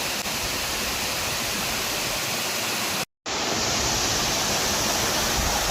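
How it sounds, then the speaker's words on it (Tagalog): A steady roaring rush of falling water from a waterfall near Kaybiang Tunnel fills the clip, broken by a brief moment of silence partway through. "may tubig na sa po Falls na walang tubig dati"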